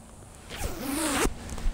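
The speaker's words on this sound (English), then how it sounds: "Like I said, they're metal zippers." A metal zipper on a beekeeping jacket is pulled in one quick, close stroke, a brief rasping zip with light rustling of fabric before and after.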